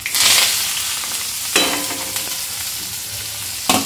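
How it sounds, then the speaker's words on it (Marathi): Mustard seeds, curry leaves and onion sizzling in hot oil, a bright spattering crackle that swells at the start and flares again in short bursts, close and without talk. "मी सर्वात अगोदर याच्यामध्ये टाकणार आहे मोहरी थोडीशी, आणि त्यानंतर सगळंच कढीपत्ता"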